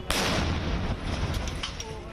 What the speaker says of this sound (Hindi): कैमरे में कैद हुआ ये धमाका।